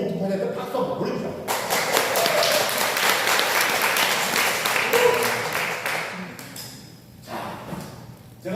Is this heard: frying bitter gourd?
no